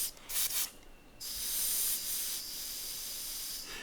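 An airbrush sprays paint onto a skull with a steady, close airy hiss, broken by brief stops early on and then running continuously.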